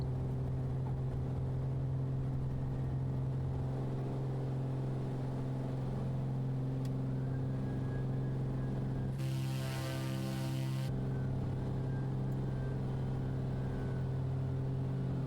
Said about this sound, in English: You can definitely hear the turbos spooling, which is nice.